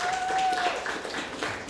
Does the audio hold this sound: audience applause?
yes